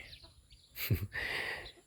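Hens on a small Thai home farm letting out a brief, faint burst of clucking at close range, one short call followed by a thin, sustained squawk.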